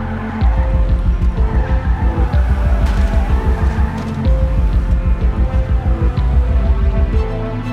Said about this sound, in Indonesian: zombie keras banget sampai mobil gue oleng